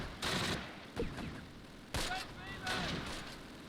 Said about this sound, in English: I hear an MG